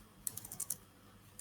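A short burst of clicky keystrokes on a computer keyboard while typing into PowerShell, about six quick taps close by and then one lone tap after a pause, over quiet room tone.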